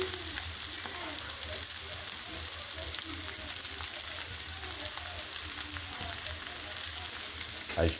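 Chicken browns in a hot pan with a dense, continuous sizzle and crackle that holds steady throughout, close and loud. Light stirring noises come through, and broccoli goes in with a faint rustle near the end.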